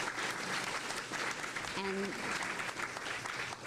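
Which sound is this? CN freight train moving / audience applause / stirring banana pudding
audience applause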